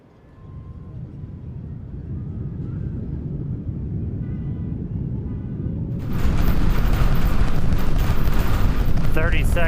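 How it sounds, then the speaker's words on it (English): A SpaceX Starship Super Heavy rocket with 33 Raptor engines lifts off as a deep, distant rumbling roar that slowly swells. It then jumps into a louder crackling thunder, with a crowd's voices faint beneath it. "Seconds into flight, 33 out of 33 Raptor engines lit on the Super Heavy booster"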